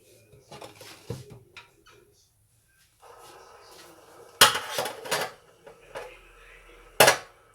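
Chicken dal soup being served out with pots and metal utensils, sharp clanks and scraping knocks in bursts between quieter moments, close to the listener.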